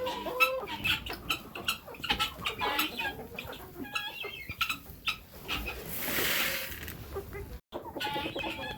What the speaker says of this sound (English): Oh my goodness, so many chickens.